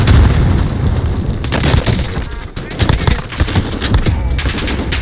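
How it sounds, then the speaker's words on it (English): Gunfire rattles in the video game Call of Duty Warzone, rapid bursts and booming shots in dense, loud clusters, with a voice talking over the fighting. "He's shooting at people right here."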